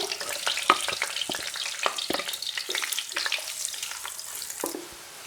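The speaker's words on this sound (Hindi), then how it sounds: "ये स्लाइस किए हुए 3 प्याज ऑयल में डाल के ब्राउन कर लेती हूँ।" Three sliced onions sizzle and crackle in hot oil, browning, with stirring scrapes and pops throughout, fairly close and with no voices.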